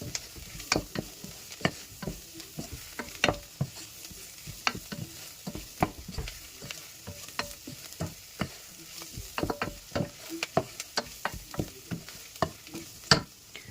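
Chicken curry with masala powder being stirred in a pan, Kerala style: a steady run of sharp scraping and clacking spoon strokes over a faint sizzle, close and alone without talk.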